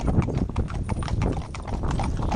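Hooves of a fell pony, a New Forest pony and a cob clip-clopping together, a dense, close, overlapping clatter of hoofbeats that continues steadily throughout.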